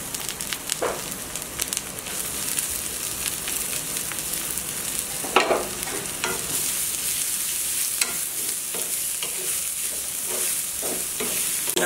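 Chopped garlic and onion frying in mustard oil, a loud continuous sizzle close by with repeated stirring scrapes and clinks of a utensil against the pan throughout.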